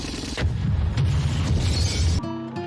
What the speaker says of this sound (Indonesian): berhasil menembak helikopter yang dibawa si Ivan hingga hancur